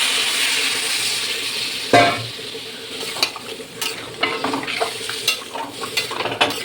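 Water hits a pan of sizzling vegetables (stalks, pumpkin and potato) with a sharp hiss, followed by steady frying sizzle and repeated scraping stir strokes close by.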